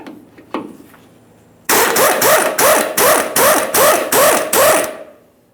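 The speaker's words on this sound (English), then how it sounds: "We'll remove our 18mm headed mounting nut down along the bottom area here" An impact wrench works an 18mm sway bar link mounting nut on a 2015-2020 Ford F-150 in a close, loud series of about eight rhythmic hammering bursts, after a couple of faint clicks.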